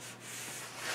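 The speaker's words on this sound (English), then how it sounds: "I'm probably going to do a little bit of touch-up planing and sanding on this joint" Touch-up sanding across a wooden joint on a bedside caddy, a brief steady abrasive rub at close range with no voices.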